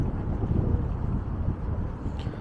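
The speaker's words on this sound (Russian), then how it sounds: "Ветер поднялся сильный." Strong wind buffets the microphone with a heavy low rumble, steady and loud throughout, with no one speaking.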